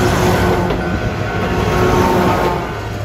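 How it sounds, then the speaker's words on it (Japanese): An Isumi Railway KiHa 28 diesel train arrives slowly, swaying, with a loud, close, steady rumble of engine and rolling wheels filling the whole moment. "ゆっくりと車体を揺らしながら列車がやってまいりました。"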